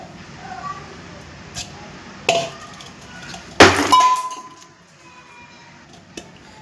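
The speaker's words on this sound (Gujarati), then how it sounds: "નીકળી ગયો બરફ. હવે તોડશું." Loosened ice is being broken into pieces: a few sharp cracking knocks and clinks, the loudest burst clustered near the middle, set against a quiet background.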